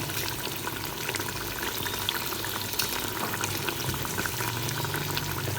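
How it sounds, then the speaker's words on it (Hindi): Beef pieces frying with tomatoes and spices for Karachi-style beef chana dal, a steady dense crackle and bubbling sizzle that runs unbroken at moderate loudness, with no voices. "10 मिनट हो गए हैं मुझे गोश्त को फ्राई करते हुए।"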